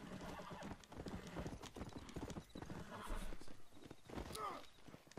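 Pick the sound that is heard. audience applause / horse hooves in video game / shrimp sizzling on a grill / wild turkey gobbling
horse hooves in video game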